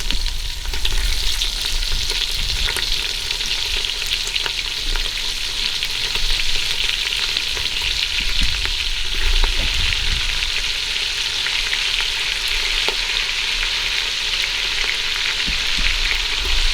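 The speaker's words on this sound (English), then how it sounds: "In goes our 2 links of andouille sausage." Two links of andouille sausage fry in a pan, giving a loud, steady sizzling hiss that runs without a break, with faint crackles and stirring noises beneath it and no talking.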